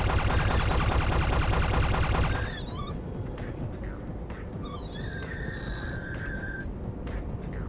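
Gunfire from the sci-fi RPG Anachronox rattles loudly in a dense burst for about two seconds, then gives way to quieter scattered game effects and tonal chirps.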